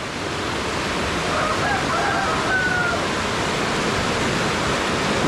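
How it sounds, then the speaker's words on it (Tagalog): Strong floodwater current rushing during heavy rain and flooding, a steady, loud broadband roar of churning water that continues without a break throughout. "Laka ng agas-as ang tubig."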